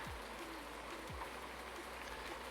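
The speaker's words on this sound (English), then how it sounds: "So, oh handy, it's raining." Steady rain hisses in the video game Farming Simulator 19, a dense even wash of falling drops that stays constant and moderately loud, with two brief low swooping tones near the start and no talking.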